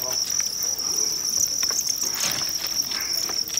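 Crickets at a cricket farm keep up a steady, high-pitched trill, continuous and close, over a faint rustling patter.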